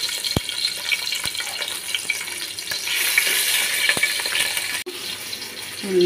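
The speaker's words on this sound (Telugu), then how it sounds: "దీనిలో కొంచెం ఆయిల్ వేసుకుంటున్నానండి. వేసి పెట్టుకున్నాం. పచ్చిమిర్చి వేసుకుందామండి." Green chillies frying in oil in a pan, a steady broadband sizzle running throughout with a few sharp ticks and clinks, louder in the middle stretch and briefly cut near the end.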